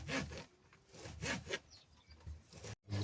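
Knife cutting vegetables for a salad on a board, rhythmic scraping strokes repeated close up, with a short silent gap near the end.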